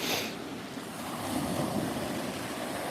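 Waves break and wash steadily against the rocky Lake Michigan shore, a continuous close roar of surf with wind buffeting the microphone throughout.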